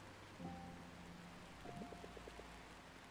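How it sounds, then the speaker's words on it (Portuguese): Heavy rain falls in the Until Then video game as a steady, faint hiss of dense drops, with a couple of soft electronic tones sounding briefly over it. "E agora tá chovendo muito."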